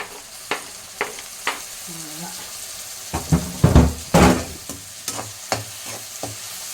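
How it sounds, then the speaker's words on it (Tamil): Onions and tomatoes sauté in a pan with a low sizzle. A spatula makes sharp taps against the pan at a slow, uneven pace, and a louder burst of scraping and stirring comes midway. "இப்போ தக்காளியும் வெங்காயம் நல்லா வதங்குது."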